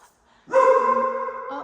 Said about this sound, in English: He is normally not a dog that barks unless there's someone around.